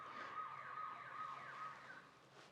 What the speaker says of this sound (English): I had an alarm going off